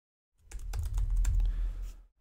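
Rapid clicking of a computer keyboard as someone types into a form input field, a dense, close burst of keystrokes lasting about a second and a half with no talking.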